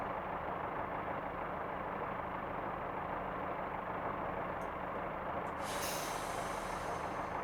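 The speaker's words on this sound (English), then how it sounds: "Hang on, the brake was actually releasing then." In a train simulator game, a train's air brake releases with a sharp hiss late on, over a steady low diesel engine idle that holds throughout.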